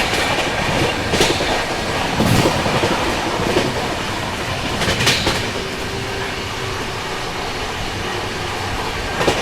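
Mangla Lakshadweep Express running at speed, around 120 km/h, with a steady loud rumble of wheels on rail and repeated clickety-clack over the joints, heard from aboard the moving train throughout.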